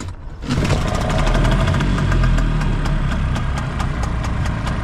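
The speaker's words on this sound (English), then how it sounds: "Out here on the water, I'm gonna test this Hangkai Outboard." A Hangkai outboard boat motor runs steadily at close range on the water, a loud low throbbing drone with a faint rapid ticking, rising slightly in intensity after a quiet start.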